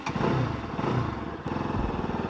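Steady close-miked engine of a Bajaj Pulsar NS200 motorcycle, a continuous low throbbing rumble with a slight change in tone partway through and no voices.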